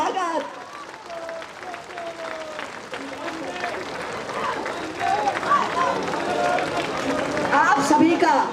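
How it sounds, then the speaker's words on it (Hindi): A crowd at a political nomination rally claps and cheers, the applause swelling louder toward the end, with voices and chatter mixed in throughout. "जोरदार तालियों से स्वागत।"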